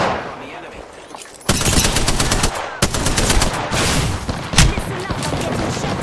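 Automatic gunfire in the Apex Legends battle royale game, loud dense bursts of rapid shots starting after a quieter opening and running almost continuously, with a brief gap near the middle and a heavier burst near the end.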